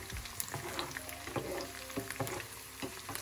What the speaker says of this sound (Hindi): गार्लिक क्लोव्स डाल दिए हैं, इनको हल्का हम बना लेंगे, पका लेंगे